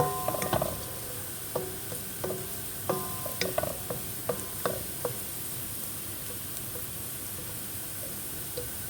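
Onions frying in a pan for an Ethiopian pasta sauce, with a steady sizzle and intermittent utensil clicks and scrapes as they are stirred, no voices.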